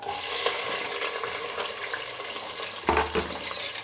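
Onions fry with whole spices in a pan while cooking biryani, giving a dense, steady sizzle and crackle with a couple of louder stirring scrapes near the end.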